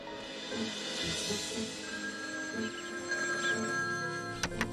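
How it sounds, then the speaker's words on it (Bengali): A cartoon telephone rings in a repeated electronic bell pattern, moderately loud against a light musical backdrop, before a sharp click near the end. "আমি বাড়ি ফিরেই মামাকে ফোন করছি"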